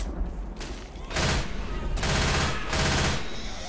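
Gunfire aimed at a gas can in the video game Left 4 Dead 2, several loud bursts of rapid shots separated by short pauses, close and dominant.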